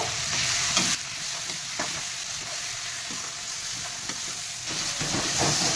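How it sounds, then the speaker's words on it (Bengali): Cumin, black pepper and ground dried chilli frying in oil in a pan with sautéed vegetables, a loud continuous close-up sizzle with a light hiss and occasional stirring knocks, no voices. "এবারে আমি জিরে মরিচ, গোলমরিচ আর বাটা শুকনো লঙ্কাটা আমি দেব"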